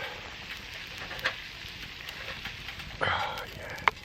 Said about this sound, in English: Doesn't take long for the water to boil.